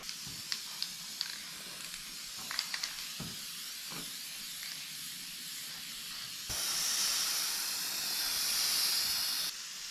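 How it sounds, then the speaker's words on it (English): A few light clicks and taps, then a steady hiss of an aerosol spray paint can on a 1970 GMC truck part for about three seconds, close and fairly loud, stopping abruptly. "a little bit of spray paint in all the right places"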